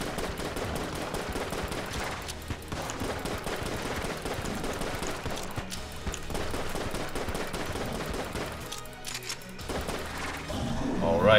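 Rapid, dense gunfire and ricocheting bullets from Enter the Gungeon, with a constant clatter of shots and impacts filling the scene, loud and busy, while a player talks over the action.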